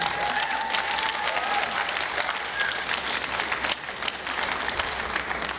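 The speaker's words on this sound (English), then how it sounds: "Give them another round of applause, please." An audience at a theater class's final performance applauds in a dense, steady wash of clapping that holds at an even level throughout, with no distinct voices.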